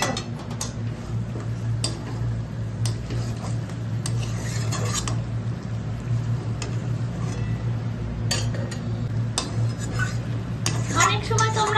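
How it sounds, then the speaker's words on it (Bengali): Mutton being stir-fried in a pan for Bengali mutton curry (khasir mangsher jhol), with steady scraping and stirring clinks of a spatula against the pot over a low hum, and occasional louder knocks. "এবার আর একটু মাংসটা কষাবো।"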